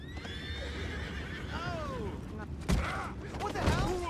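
A horse whinnies loudly several times amid Red Dead Redemption 2 game noise, with hooves and a couple of sharp bangs near the end.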